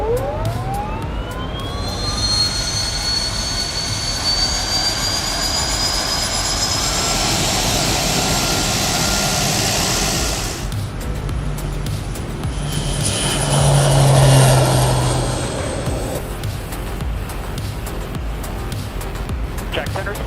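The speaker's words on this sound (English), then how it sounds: "Engine start." A Boeing 737-800 engine spools up in the X-Plane 12 flight simulator, a rising turbine whine that builds into a loud steady roar, with a second surge later and voices at points.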